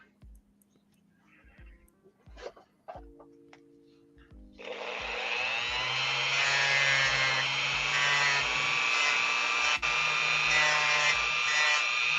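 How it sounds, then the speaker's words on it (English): A Dremel rotary tool cutting the head off a metal pin on an action figure; a few knocks and handling sounds come first, then a steady, close, high whine that holds for several seconds. "Dremel off the head of that pin."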